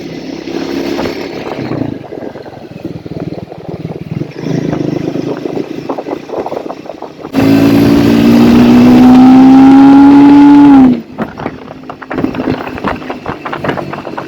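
A Triumph Speed 400 motorcycle engine runs close by, then revs hard for a few seconds with a rising pitch before dropping back to a rough, steady running note.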